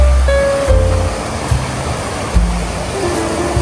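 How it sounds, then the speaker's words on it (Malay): A sandy river runs past a riverside campsite, its rushing water giving a loud, broad wash that rises and falls in gentle surges and stays steady throughout with no voices. "Ni sungai dia. Sungai dia cantik"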